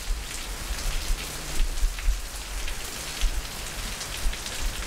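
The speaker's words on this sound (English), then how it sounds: "it's like we got some rain on here" Rain falling steadily on an outdoor surface, a dense, even hiss of drops with small bursts of heavier patter, close by and continuous, no voices.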